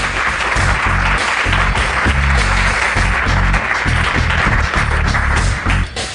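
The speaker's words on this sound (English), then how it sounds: "Nice warm applause for them." Warm applause from a TV game show studio audience, a dense, steady wash of clapping that stays loud and even for several seconds before easing slightly at the end.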